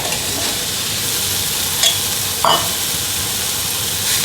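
Walmart Marketside wagyu steak frying in an oily pan, a loud steady sizzle and hiss throughout with a couple of brief louder pops, no voices.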